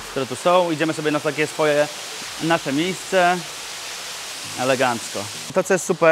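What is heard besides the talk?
rushing of waterfalls at a hotel pool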